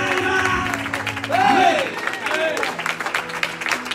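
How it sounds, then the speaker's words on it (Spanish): Applause from a church congregation during a Spanish-language evangelistic service, a steady patter of clapping mixed with voices and a raised singing or preaching voice that swells midway. "Basta de aplausos"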